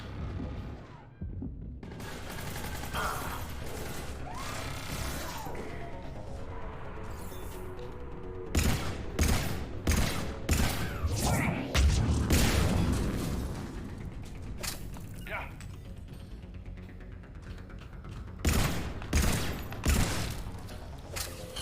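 Turret gunfire in the shooter game Mass Effect 3 bursts out in clusters of sharp, booming shots over a mechanical rumble and creaking, growing denser and louder midway, then returning in short volleys.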